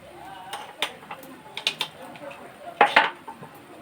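A spoon scrapes and clinks against a pan while ghee is stirred into rava halwa, giving scattered sharp metallic knocks at moderate distance over a quiet background.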